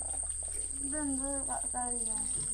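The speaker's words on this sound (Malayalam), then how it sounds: "ഓ ചീവീട് കറിയുന്നു" A cricket's high, unbroken chirring trill runs steadily throughout the clip, while a nearby voice briefly sounds over it.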